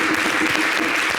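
An audience at a French television holiday broadcast gives a brief, steady burst of dense applause, filling the moment with continuous clapping.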